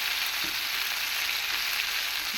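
Baby raw banana slices frying in oil give a steady, even sizzle that holds at the same level throughout, close and unbroken, with no voices.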